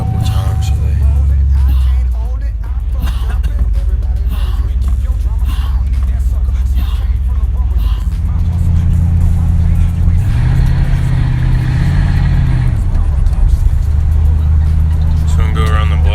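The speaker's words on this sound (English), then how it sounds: "now we finna take it for a test drive and see how it goes" A 1995 Ford Bronco on a test drive after front brake replacement, its engine rumbling steadily from inside the cab with rising revs as it accelerates, while people talk over it.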